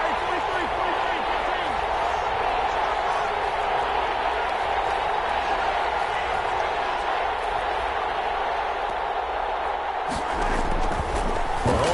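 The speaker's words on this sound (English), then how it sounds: "the crowd getting into it as we come up on a big 3rd down" A stadium crowd in a video game American football match, building toward a big third down, roars as a steady, loud wash of cheering throughout, with a sharper swell near the end.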